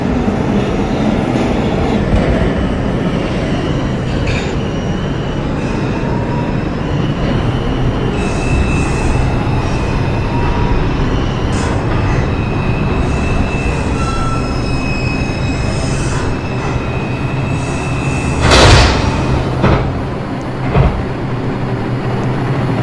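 A Bronx-bound 1 subway train runs along the track, a steady loud rumble with faint wheel squeals and a couple of sharp clanks near the end.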